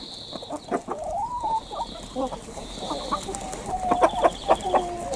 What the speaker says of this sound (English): the problem is the chickens are all headed to where they normally get fed